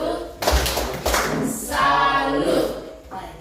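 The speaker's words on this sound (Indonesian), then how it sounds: "Mari kita tepuk salut dulu." A school group in an Indonesian junior high does the rhythmic "tepuk salut" clap together, with a few loud, sharp clap bursts in a set pattern. Voices chant along between the claps.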